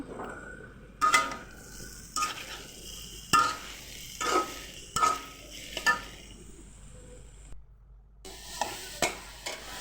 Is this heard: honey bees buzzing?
no